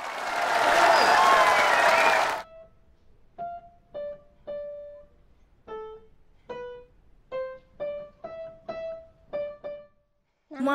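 Applause and cheering for a couple ring out as a dense, loud crowd burst for about two seconds, then cut off abruptly, followed by a string of separate, clear melodic tones.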